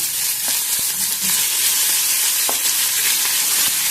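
Tomatoes frying in a pan for a radish chutney, a steady close sizzle with a few soft stirring knocks, no talking.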